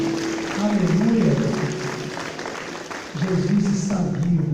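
A church congregation applauds during a worship service, a steady broadband patter of many hands held for several seconds beneath sustained voices or tones, dipping briefly before swelling again.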